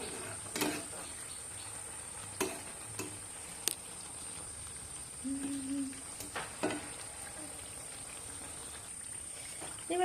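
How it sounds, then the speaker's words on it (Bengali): Mango malpua made with wheat flour and semolina fry in oil, a low steady sizzle with occasional soft clicks and scrapes, quiet and close, under a constant high hum. "লাল লাল করে ভেজে নিয়ে মালপোয়াগুলো তুলে নেব"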